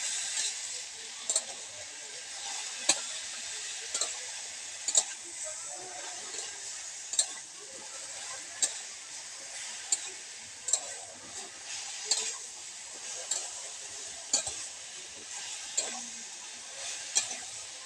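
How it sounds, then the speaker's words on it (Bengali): Vegetables for a pumpkin dish stirred in a pan, with steady sizzling frying underneath and regular light clinks of a spoon against the pan every second or so, close and moderately quiet. "খুলে আবার একটু সবজিটাকে নাড়া দিয়ে দিলাম।"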